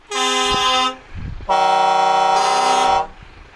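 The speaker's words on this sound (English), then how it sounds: "My horn wins." A loud Mercedes Actros or Scania R500 truck horn blasts twice, a short toot followed by a longer sustained honk, close by with a brief gap between.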